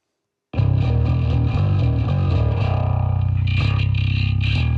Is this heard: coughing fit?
no